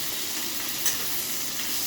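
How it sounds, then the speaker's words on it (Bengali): Crab frying in a pan gives a soft, steady sizzle and hiss up close, fairly quiet and unbroken, with no one speaking. "দেখুন ক্যাকড়াটা আমার খুব সুন্দরভাবে ভালো ভাজা হয়ে গেছে।"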